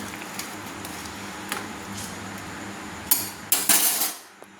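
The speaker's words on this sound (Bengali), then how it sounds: "সর্বশেষে একটু নেড়ে নিলাম" A spoon scrapes and clinks against a cooking pot while soybean curry is stirred: quiet scraping at first, then a few sharp metallic knocks and a louder rattling clatter before it fades.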